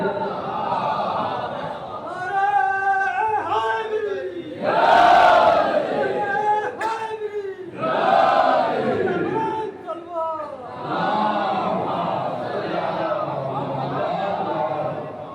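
A large crowd at a Shia religious gathering chants a slogan in loud unison, rising in repeated surging bursts with overlapping voices and cheering between waves.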